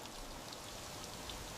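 Gentle rain falls steadily over a Swiss Alpine village with wooden balconies, a soft, even patter without any voices.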